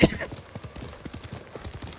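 Horse hooves clip-clop in the video game Ghost of Tsushima, a steady trotting rhythm of close, repeated hoofbeats following a loud thump at the start.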